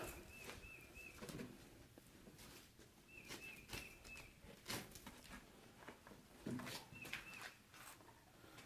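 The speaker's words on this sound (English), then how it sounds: "Wish that bird shut up." Repeated short bird calls, a few notes at a time, recur every few seconds against an outdoor background with occasional bumps and rustles.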